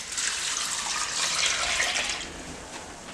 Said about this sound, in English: add the stock.